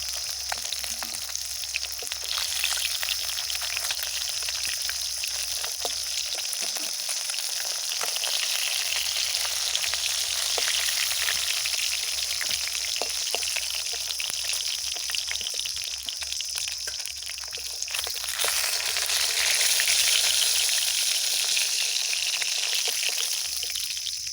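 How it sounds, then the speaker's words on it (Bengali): Onions fry in oil in a pan after fish in a village kitchen, a continuous dense crackling sizzle lasting throughout, close and fairly loud, with occasional liquid spatter and no talking. "এবার আমি পেঁয়াজগুলো ভেজে নেব।"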